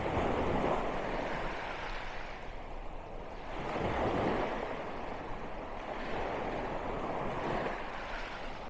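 Waves wash onto a beach at the foot of a cliff, with broad surges of surf rising and falling every few seconds under steady wind.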